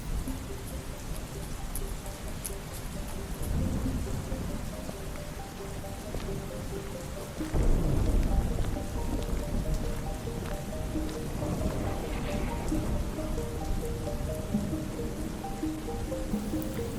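A storm in the Star Stable video game: steady rain patters throughout, and a low rumble of thunder swells about halfway through and then fades under the continuing downpour.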